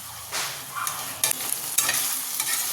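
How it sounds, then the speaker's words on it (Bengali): Poppy seeds and tomatoes frying and being stirred in a pan, with a close sizzle and a few sharp scraping strokes of a spoon against the metal over a couple of seconds. "দেখো পোস্তটা খুব ভালো করে ভাজা হয়ে গেছে"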